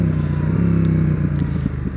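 A Yamaha XSR700 motorcycle engine pulls hard under acceleration, a loud, close throbbing drone with steady pulsing rhythm and slight clatter.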